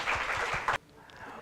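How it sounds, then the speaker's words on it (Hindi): An audience at a stage magic show gives a short burst of lively clapping for a volunteer. The applause is loud and dense for under a second and then cuts off abruptly into quiet room tone. "जोरदार तालियां।"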